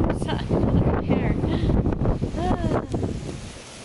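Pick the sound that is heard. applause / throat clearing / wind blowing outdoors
wind blowing outdoors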